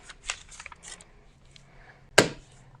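Scissors snip fabric for a microwave bowl cozy: soft handling and rustling of cloth first, then one sharp, loud, close cut that stands out clearly from the quiet, with no talking.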